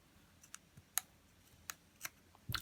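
Scissors cutting fabric for a doll outfit, a handful of faint, sharp snips and clicks spaced irregularly over quiet background, close by, with no talking.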